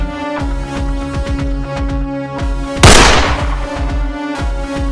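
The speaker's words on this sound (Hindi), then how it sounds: "अरे गोली चली" A single loud gunshot cracks partway through, set against a busy layered backdrop of rhythmic music and thumps.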